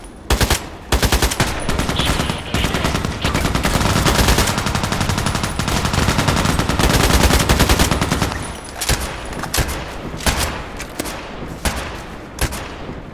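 An AKMS rifle in the shooter game Contract Wars fires in long, rapid automatic bursts, loud and close, then tapers into shorter scattered volleys.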